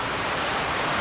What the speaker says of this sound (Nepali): ठुलो पानी पर्यो त